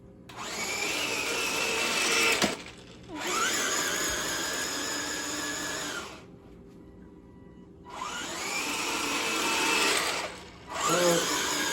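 An RC Ripsaw tank drives indoors at full speed. Its electric drive gives a loud, steady mechanical whine in three long runs, separated by brief drops and a quiet gap near the middle, with no talking.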